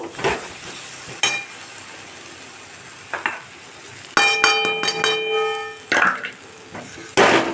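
Spices stirred and mixed in a frying pan with soybeans and chana dal, with a soft background sizzle broken by a few scrapes and a ringing metallic clang of the utensil against the pan, close by.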